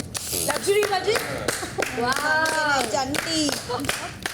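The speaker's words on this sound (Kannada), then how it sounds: "ಈಗ ಇಲ್ಲಿ ಬರೋ ಚಪ್ಪಾಳೆ." The audience claps on the Bigg Boss Kannada reality show with scattered, uneven hand claps mixed under people talking.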